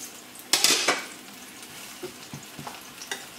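Eggplant pieces drop into a hot pan with a clatter and brief sizzle, followed by softer scraping and light clinks.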